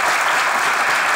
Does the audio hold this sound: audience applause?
yes